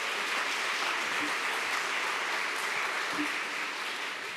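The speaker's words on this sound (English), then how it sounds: "Let's give them a round of applause, please." An audience at a library staff awards ceremony applauds the selection committee with a continuous, evenly spread roar of clapping that holds steady at moderate volume and tapers a little at the close.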